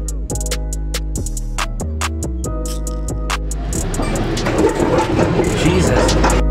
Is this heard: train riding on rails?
yes